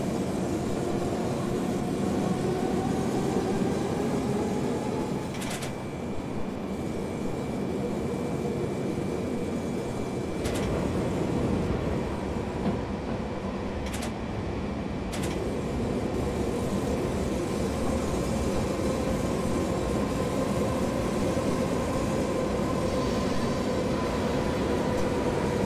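A BR 420 S-Bahn electric train rolls into the underground München Tief station in Train Simulator 2015, a steady loud rumble of running gear and motors with a few sharp clicks and brief track knocks, no one speaking.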